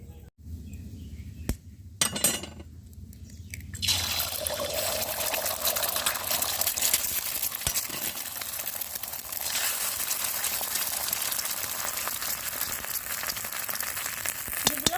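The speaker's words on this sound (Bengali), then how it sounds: "তেল গরম হয়ে গেছে, আমি এখানে দুটো ডিম নিয়েছি, আর ডিম দুটো এখন আমি ভেজে নেব।" Two eggs dropped into hot mustard oil burst into a loud, steady crackling sizzle after a few clinks and knocks, and the frying runs on continuously at close range.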